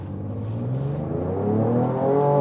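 A Ford Ranger Raptor pickup with a 3.0 V6 twin-turbo engine accelerates in sport mode with Baja exhaust mode on, its engine note rising steadily in pitch and loudness from inside the cab.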